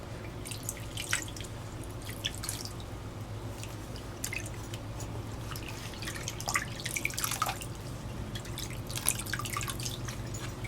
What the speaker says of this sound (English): And just kind of drip the soapy water on him.